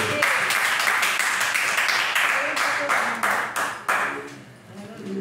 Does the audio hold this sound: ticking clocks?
no